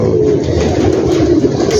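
Pigeons cooing in a rooftop loft cage on a large roof in Gujranwala, a steady, loud, close chorus of low rolling coos with no talking.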